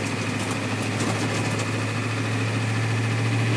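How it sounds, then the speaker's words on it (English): A 1989 Ford E-350 van with a 7.3L IDI diesel engine runs with a steady, heavy low rumble and vibration, close and continuous with no one speaking. "Here, this is a good engine in this thing."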